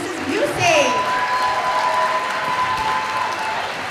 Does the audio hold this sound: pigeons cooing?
no